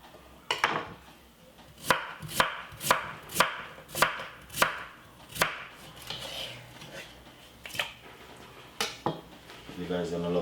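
A knife chops potatoes on a board in a run of sharp, evenly spaced thuds, some doubled, then sparser cuts and a clatter at the end, with a voice now and then between strokes.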